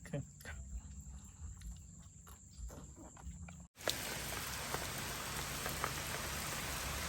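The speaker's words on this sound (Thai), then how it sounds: "ฝนลงครับ" Steady rain hisses loudly across a riverside after a sudden onset in the evening, preceded by quieter night insects chirping and a few scattered drips.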